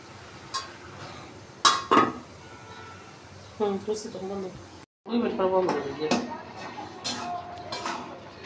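Metal lid and pot clatter as a pot of boiling tomatoes is covered, with several close clinks and a louder clank, while someone speaks throughout.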